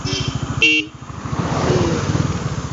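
A loud car horn honks once in a short blast, followed by steady engine rumble from a nearby vehicle.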